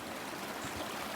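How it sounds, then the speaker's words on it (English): Rock Creek flows steadily along a mountain trail, a continuous rushing and gurgling of water heard close by, fairly soft and even, with no voices. "this is Rock Creek"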